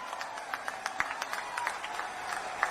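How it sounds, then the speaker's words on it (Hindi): An audience at a public event in Chhattisgarh claps to welcome Chief Minister Bhupesh Baghel, a steady patter of many hands with sharper individual claps standing out, moderately distant. "जोरदार ताली बजाकर उनका स्वागत करें।"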